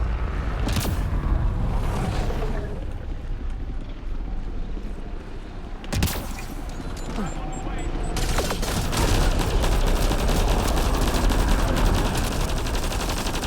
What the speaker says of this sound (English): That's like a machine gun